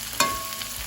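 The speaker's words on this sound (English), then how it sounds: "That sizzle." Salmon fillets, about 130 degrees in the center, hit a hot pan with a sudden burst of sizzling that settles into a steady crackling fry, close and moderately loud with no voices.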